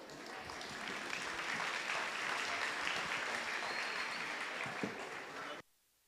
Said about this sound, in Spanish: nos preparamos para recibirlos con ese fuerte aplauso